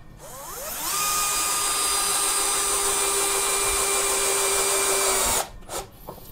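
A Bosch GSB 120 Li cordless drill in screwdriving mode on low speed with torque setting 5 spins up from a whine to a steady, loud, even tone held for several seconds, then stops abruptly, with no talk over it.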